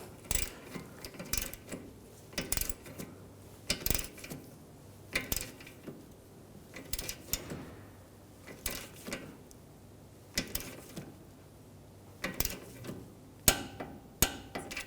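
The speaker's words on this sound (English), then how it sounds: "And I'll torque this jam bolt to 29" Repeated sharp mechanical clicks and ratcheting bursts from a torque wrench tightening a tie rod jam bolt on a BMW 328i, coming in irregular clusters against a quiet garage background.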